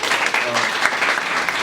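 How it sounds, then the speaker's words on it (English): An audience claps warmly to welcome a speaker at a community event on opioids in Minnesota, a brief, even, dense round of applause close and steady throughout. "please give a nice round of applause for Susan Solars"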